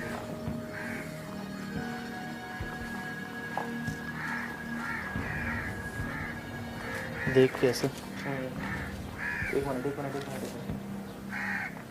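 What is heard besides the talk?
crows cawing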